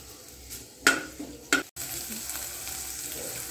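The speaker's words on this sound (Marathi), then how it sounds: "तर तेल गरम झालेलं आहे चांगल्या प्रकारे। तर आपण कांदा टाकून घेऊया तेलामध्ये।" Onion dropped into hot oil for a capsicum bhaji gives a couple of sharp clattering splashes followed by a steady, close sizzle, with no talk over it.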